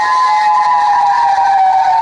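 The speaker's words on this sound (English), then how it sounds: "Tonight, sirens blaring across the South." Tornado warning sirens blare during an Easter Sunday severe weather outbreak in the South, a loud steady wailing tone held throughout with a slight downward drift, no voices.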